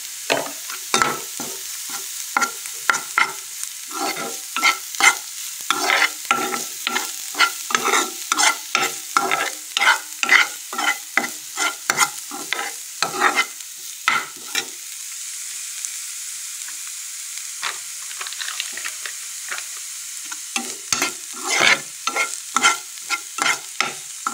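Greens fry in a pan, stirred briskly and repeatedly, with sharp scraping strokes over a soft sizzle and a brief lull midway.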